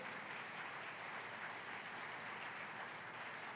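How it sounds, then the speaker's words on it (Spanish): A church congregation gives the Lord a round of applause, a steady wash of many hands clapping that stays faint and distant throughout. "¿Quieres darle un aplauso al Señor"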